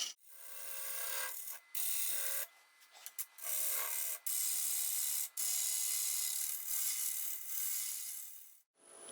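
Timber spins on a lathe while a gouge strips away waste wood in a traditional German ring-turning setup, giving a close, loud rasping and scraping that runs continuously, broken by several short gaps as the tool lifts off.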